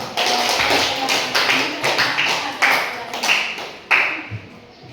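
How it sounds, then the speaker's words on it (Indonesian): A group claps together in a sustained burst of applause, dense and uneven, gradually thinning out with a few louder individual claps near the end. "Oke, kita beri tepuk tangan dulu."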